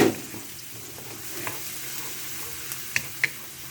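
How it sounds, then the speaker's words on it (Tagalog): Chopped onion and garlic sautéing in a pan for mushroom sisig, a soft steady sizzle with a few light clicks of a utensil stirring, near and moderately quiet. "So, gisa-gisa lang tayo dito mga fanatics, no?"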